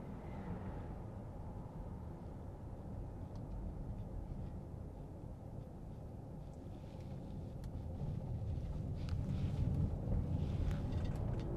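Inside a Mercedes EQC 400 electric car driving under regenerative braking, a steady low rumble of road and tyre noise fills the cabin and grows slightly louder toward the end, with no engine note.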